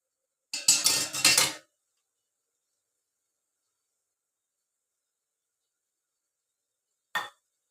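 Porridge (java) stirred in a pot on a stove, heard as a short scraping, clinking burst of a spoon against the metal, then long silence and one brief clink near the end.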